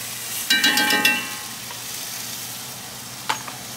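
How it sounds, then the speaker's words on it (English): Polenta stirred in a pot of boiling milk, with a few scraping utensil strokes and a faint bubbling hiss up close before things go quiet, then one last scrape. "We're going to put the polenta in. We're going to stir it for just a few moments."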